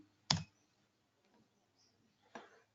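Two sharp, isolated clicks from a computer keyboard, close and quiet, separated by a long pause, as a name is entered into a property field.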